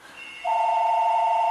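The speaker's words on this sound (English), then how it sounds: "Let me answer this phone" Telephone ringing indoors: a steady electronic tone that starts abruptly and holds unbroken, fairly loud and close, with no voices over it.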